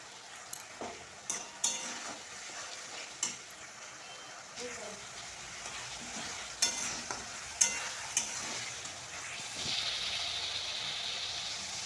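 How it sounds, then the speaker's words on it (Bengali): Spice masala sizzles steadily in a pan for broccoli and potato curry, with a spoon scraping and clinking in repeated sharp strokes, close up, as a voice talks briefly over the frying. "মশলাটা এবার ভাজা ভাজা হয়ে এসছে, আর একটু হবে"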